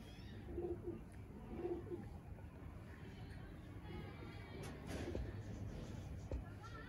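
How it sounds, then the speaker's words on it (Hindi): A pigeon coos softly a few times in low, rolling bursts, faint against a steady background hum. "ये कबूतर है"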